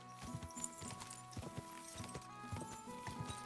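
A horse walks in Kingdom Come: Deliverance II, its hooves clip-clopping in an even, unhurried rhythm, quiet and steady, with no talking.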